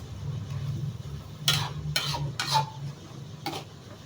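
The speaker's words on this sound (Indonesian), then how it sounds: "Saya aduk-aduk rata sampai benar-benar masak kangkungnya." Water spinach (kangkung) is stirred in a pan for a spicy stir-fry, giving a few separate scraping clatters over a steady low cooking hum.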